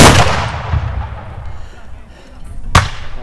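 A volley of musket fire at a Civil War battle reenactment of General Hardee's retreat: a loud booming blast at the start with a long rolling echo, then a second sharp crack near the end.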